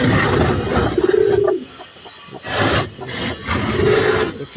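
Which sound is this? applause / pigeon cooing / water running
pigeon cooing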